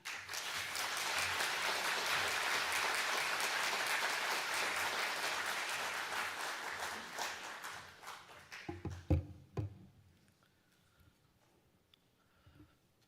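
Dense crowd applause fills a church sanctuary steadily, then thins into scattered claps and dies away to near quiet.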